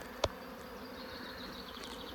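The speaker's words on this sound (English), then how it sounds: "All the bees coming back." Bees returning to a Dadant hive make a soft, steady insect buzz close by, with one brief louder thump near the start and no talking.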